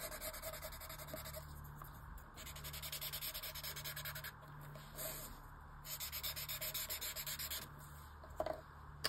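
A pencil shades a paper tile in a Zentangle drawing with quiet, quick back-and-forth rubbing strokes in several bursts separated by short pauses, close up and without talk.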